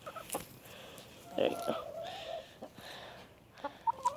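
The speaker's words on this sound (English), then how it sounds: "Chickens are so jealous." Backyard chickens cluck and squawk in short bursts while people talk nearby, the hens close and fairly faint, with a louder squawk in the middle.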